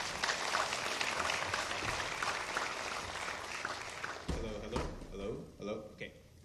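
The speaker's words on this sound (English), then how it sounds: "Give them a warm round of applause." A seminar audience applauds in a dense burst of clapping that fades out after about four seconds, giving way to a voice talking into a microphone.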